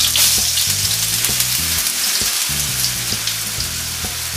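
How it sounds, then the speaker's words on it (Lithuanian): Potato pancakes fry in oil in a pan on low heat, giving a steady, loud, close sizzle with soft crackles and faint clicks throughout. "ir dedame kepti į keptuvę"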